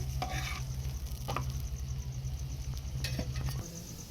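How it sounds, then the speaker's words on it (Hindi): An aloo paratha cooks on a hot griddle, a continuous sizzle underneath a low hum, with a few scraping touches as it is pressed and turned, close and unvoiced. "अब हम इसको अच्छी तरह से दोनों साइड से पका लेंगे"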